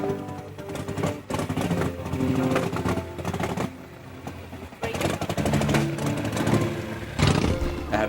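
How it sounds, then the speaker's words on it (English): A motorcycle built from a dead rider's old bike is started and revved on a grave, giving a loud, rough, rattling engine roar with sharp revs and short dips, close by. "a motorcycle built from the remains of Sam's old bike is started on his grave, so that he might hear it rev one more time"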